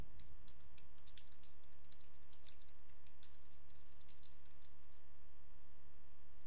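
An address typed on a computer keyboard, a close, irregular patter of light key clicks in short bursts over a constant electrical hum, with no speech.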